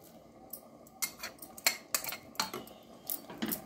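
A spoon clinks and scrapes in a pot while boiled chickpeas are mixed with chopped coriander for Punjabi chhole, with several sharp metallic knocks in an irregular rhythm, close by with no talk.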